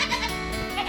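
Goats bleating at breakfast time on a small farm: a brief, loud, wavering nasal bleat up close, with layered overlapping calls.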